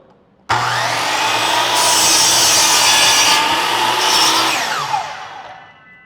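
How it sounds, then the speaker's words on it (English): A miter saw blade cuts through wood in one continuous pass, starting abruptly with a loud, close whine and grinding that holds steady for several seconds before tapering off as the cut finishes. "And that's how you use the miter saw."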